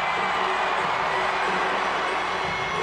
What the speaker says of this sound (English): certainly the applause is starting to deafen